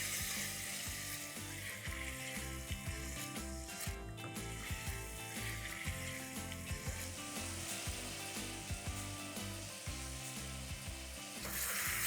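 Black mutton curry, Maharashtrian kaala mutton, cooking on high flame in a pot, with a continuous sizzle and repeated scraping and clinking of a spoon as it is constantly stirred, steady and close throughout.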